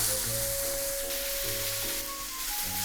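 Mushrooms frying in a pan for a Japanese-style pasta, giving a steady, close sizzle with faint stirring, no voices.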